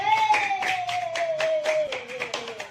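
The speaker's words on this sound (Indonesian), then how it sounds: "walaupun terpaksa kita kasih tepuk tangan buat jantung" Children clap together in a classroom, a run of quick, fairly loud claps lasting a few seconds, with a sustained tone running beneath them.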